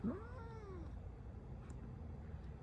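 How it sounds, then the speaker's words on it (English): A short, rising-then-falling cat meow at the very start, faint against a steady low background hum, followed by quiet room noise. "I don't know what that little meow was."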